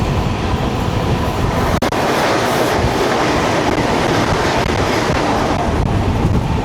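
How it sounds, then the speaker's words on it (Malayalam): A Chennai–Coimbatore Vande Bharat Express train rushes past close by, a loud sustained roar with rattling wheel clatter and a sharp click partway through, heard from a passing train with no voices. "വരുന്നുണ്ട് ചെന്നൈ കോയമ്പത്തൂർ വന്ദേ ഭാരത് എക്സ്പ്രസ്."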